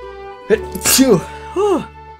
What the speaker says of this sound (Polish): muszę kichnąć